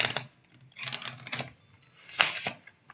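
Playing cards riffle shuffled by hand for card tricks, giving a few quick rattling bursts of flicking cards, close and fairly quiet, with no talk.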